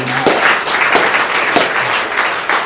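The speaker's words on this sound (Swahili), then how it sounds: "Pigia Yesu makofi mazuri" A church congregation claps for Jesus, with dense, steady applause from many hands filling the room, loud and close, with a few louder individual claps.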